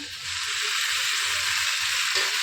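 Ginger and garlic fry in a pan with browned onions for home-style chicken, a loud, continuous close sizzle that swells slightly near the end, with no talking.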